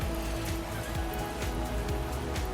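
Rain falls in a cartoon scene, a dense continuous patter of drops on surfaces with steady hiss throughout, loud and close.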